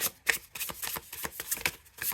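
A tarot deck being shuffled by hand: a steady run of crisp riffling and flicking card sounds, close and fairly quiet, with no talking.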